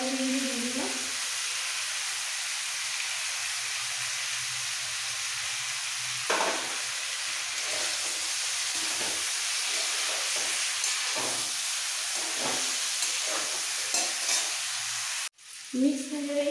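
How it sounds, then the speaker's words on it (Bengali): Capsicum pieces and steamed cabbage sizzle steadily in a hot pan for mixed vegetables, a loud close hiss broken by repeated scraping stirs of a spatula, with no talk and a brief clunk near the end. "একটু নাড়াচাড়া করে দিয়ে দিচ্ছি ক্যাপসিকামের টুকরোগুলো আর বাঁধাকপিগুলো ভাপানো বাঁধাকপিগুলো দিয়ে দিলাম।"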